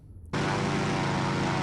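Propeller aircraft engine noise in the submarine game Silent Hunter 3, a loud, steady drone that cuts in abruptly after a brief quiet start and holds constant as the plane passes overhead.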